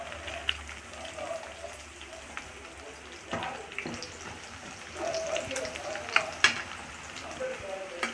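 Chicken pieces fry in oil for a homemade chicken pickle, crackling and sizzling steadily while a utensil stirs and scrapes the pan. Voices can be heard faintly at times over the frying.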